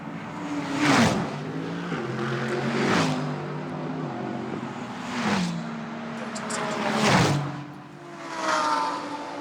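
A Lamborghini GT race car, the number 78 Barwell Pro-Am entry, among cars racing at the Spa 24 Hours: repeated engine roars rise and fade as cars pass one after another, loud and steady with no voices.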